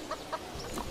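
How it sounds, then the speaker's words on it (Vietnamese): A chicken gives a few quick, close clucks in under a second, sharp and moderately loud. "Tiếng gà kêu."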